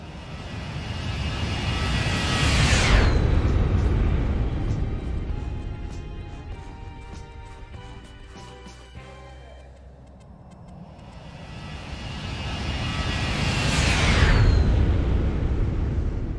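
A Zibo-modded Boeing 737-800 jet in the X-Plane 11 flight simulator makes two loud flybys, each swelling into a roaring whoosh with a falling pitch sweep, then fading into a quieter rumble between passes.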